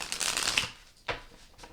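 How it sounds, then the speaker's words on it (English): A deck of tarot cards is shuffled close by in two quick riffling bursts with a short pause between them. "Let me shuffle really quickly."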